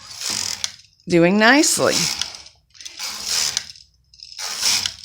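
The carriage of a Brother KH 587/588 knitting machine runs across a narrow strip of knitting held by a single centre weight, giving rough mechanical rasping in bursts around and after a short spoken phrase.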